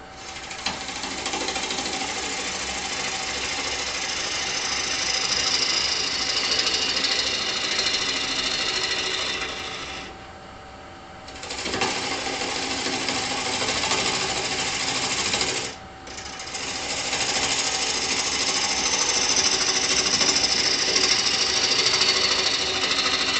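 A wood lathe spins a maple bowl blank while a gouge makes push cuts, producing a loud, continuous rattling drone near the listener, with two short dips where the cutting eases off.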